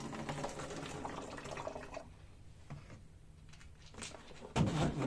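Coolant drains from a Beta motorcycle engine, a close splashing trickle of liquid that runs strongly, thins to a quieter dribble, then surges again near the end.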